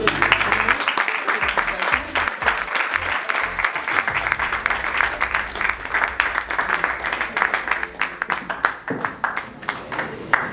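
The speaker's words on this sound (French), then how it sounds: "on applaudit très fort" A large audience at a hairdressing competition ceremony applauds loudly and steadily for the prize-winning barber, a dense wash of clapping lasting throughout, with a voice talking faintly beneath it.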